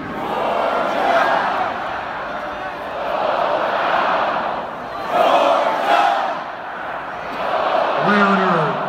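Georgia Bulldogs fans at Sanford Stadium roar and chant in loud swelling waves as a dense crowd that rises and falls throughout, with a brief voice near the end.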